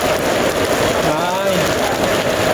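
Heavy rain pours down steadily and loudly on surfaces outdoors in Phan Thong district during a delivery ride, a dense unbroken patter filling the whole moment.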